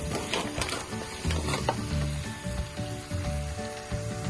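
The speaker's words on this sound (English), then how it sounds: "Alright, mix that all in." Sausage gravy thickened with flour sizzles in a pan while it is stirred, a soft, busy crackle with steady scraping, and tonal music runs quietly underneath.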